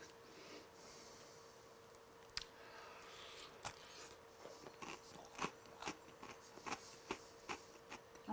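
Biting and chewing a warm, crispy-topped blueberry muffin just out of the oven or air fryer: a sharp close crunch, then a string of soft, irregular crunchy chews and breaths, quiet and without talk.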